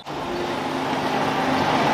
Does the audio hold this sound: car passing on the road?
yes